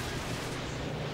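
Distant battle rumble of gunfire and explosions in Call of Duty: Modern Warfare 2 during a Spec Ops mission, a dense, continuous muffled barrage without distinct individual shots.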